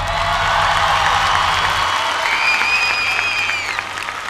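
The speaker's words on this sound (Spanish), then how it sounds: "Jesús de Nazaret, un fuerte aplauso para él." Large festival crowd at Viña del Mar 2010 applauding and cheering loudly after a reggaeton act, dense sustained clapping with whoops and rising cheers, fading slightly at the end.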